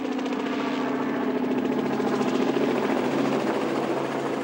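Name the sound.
helicopter arriving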